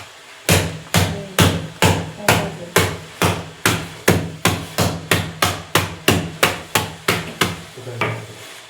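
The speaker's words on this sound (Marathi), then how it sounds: "आता आपण ह्याला फोडू या दगडाला" A hard seed stone is crushed with a wooden churner in a home kitchen for a milkshake, giving about eighteen loud, evenly spaced thuds, one roughly every half second, close up and with no talk.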